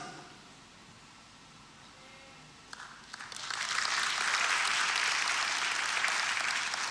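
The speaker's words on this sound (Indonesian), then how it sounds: "Tepuk tangan yang meriah." A church congregation breaks into applause, starting with a few scattered claps and swelling into loud, sustained clapping from a large crowd.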